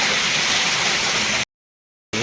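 Water gushing steadily and loudly from a freshly drilled borewell, a dense broadband rush that cuts out abruptly to silence and then resumes near the end.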